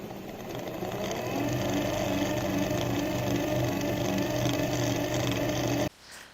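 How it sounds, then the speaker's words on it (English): A 220 volt DC motor runs at reduced voltage and low RPM with a steady whirring hum. It stays close and constant for about six seconds, then cuts off sharply into a faint tail. "that's your motor, although it's 220 volts, but I'm running it at lower voltage, so the RPM is a little low"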